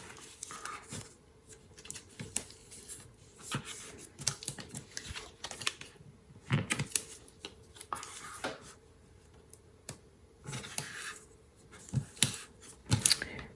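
Tear and Tape double-sided adhesive tape being torn and pressed onto paper craft strips, giving scattered crisp tearing and peeling crackles in irregular bursts over a low steady background hum, close up, with no talking.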